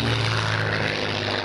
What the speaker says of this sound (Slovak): Spitfire v krásnej pozícii,